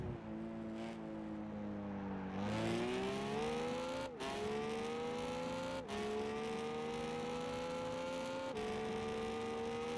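Race car engines drone steadily in Gran Turismo 5, the pitch climbing and dipping as the cars accelerate and ease off, with brief sharp breaks from gear shifts and faint tire noise, loud and continuous throughout.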